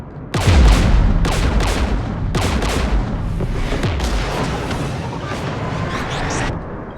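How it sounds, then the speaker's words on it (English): Heavy gunfire and booming blasts from the video game Mass Effect 3 roll through a battle, loud and continuous, with bursts of shots over a dense rumbling bed for several seconds. "We're taking fire."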